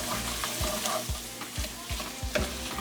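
Apple chunks fry in an oiled pan while being stirred. A spatula scrapes through them in a regular rhythm, roughly twice a second, over a continuous soft sizzle heard up close.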